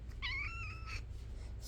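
A house cat gives a single drawn-out meow, clear and fairly close, over a low steady background hum, with no talk.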